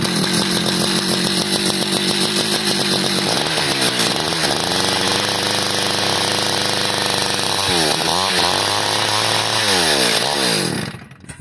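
A gas-powered ice auger engine running on choke in extreme cold at fifteen below zero, loud and close, roaring unevenly with repeated revving surges and sputters before cutting out at the end.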